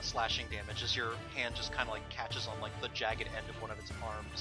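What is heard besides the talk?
No everyday noise stands out behind the speech.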